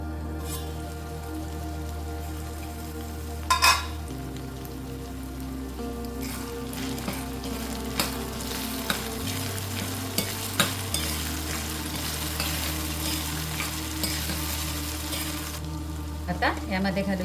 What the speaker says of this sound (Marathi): आता हा कांदा टोमॅटो आपण मध्यम आचेवर 5 मिनिटं शिजवून घेऊया